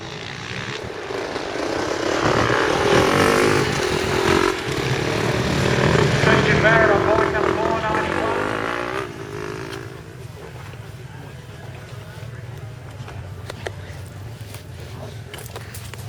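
Dirt bike engine at a desert race, a loud sustained droning roar that holds steady for about nine seconds before dropping to a quieter, lower rumble with faint background noise.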